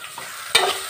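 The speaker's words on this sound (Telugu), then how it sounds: "ఇప్పుడు ఇది ఒకసారి కలుపుకుని మూత పెట్టి" A spoon stirs fish curry with onions and green and dried red chillies in a hot pan, one short scraping stir over a faint sizzle.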